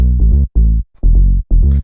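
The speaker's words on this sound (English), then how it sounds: "and then you get this really nice full sounding bass line" Full, fat bass line from a filtered FM saw-wave synth in a minimal house track, four sustained harmonic-rich notes with short gaps, loud and close, playing alone.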